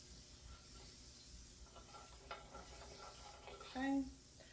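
Butter melting in a pan for a garlic lemon mahi mahi and asparagus dish, giving a steady low sizzle and faint stirring, with a brief louder hiss near the end.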